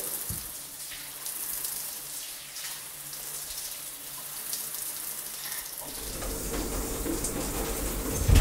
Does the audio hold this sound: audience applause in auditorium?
no